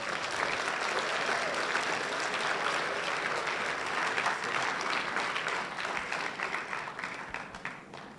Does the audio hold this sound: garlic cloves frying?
no